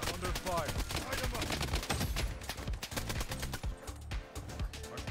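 Gunfire in the Bloodstrike video game, rapid continuous bursts of shots from automatic weapons with dense overlapping cracks throughout, loud and sustained with a faint voice underneath.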